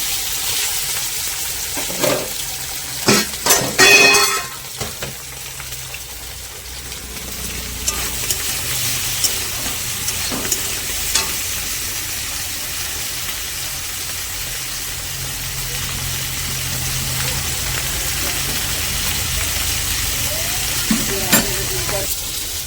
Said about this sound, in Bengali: কড়ার মধ্যে মাছ দিয়ে দিলাম